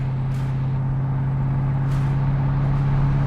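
A 2003 Corvette 50th Anniversary Edition cruises down the road, its engine a steady, low, even drone heard from inside with no revving or talk.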